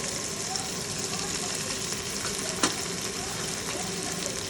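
Vegetables for pav bhaji roast in a hot pan with a steady close sizzle and occasional stirring scrapes, one sharp clink standing out midway.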